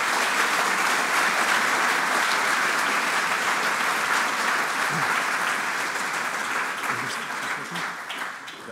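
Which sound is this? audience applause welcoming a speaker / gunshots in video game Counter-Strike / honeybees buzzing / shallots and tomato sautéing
audience applause welcoming a speaker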